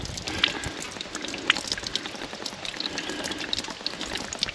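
Water trickles and splashes steadily as it drains from the bottom of a diesel tractor fuel filter, a close, continuous liquid patter with small drips.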